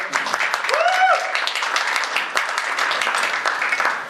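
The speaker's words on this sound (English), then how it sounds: "We have a round of applause for coming out" A conference audience gives a round of applause at the opening of a first-ever Data Days event in Cleveland, with dense steady clapping over about four seconds and a brief voice near the start.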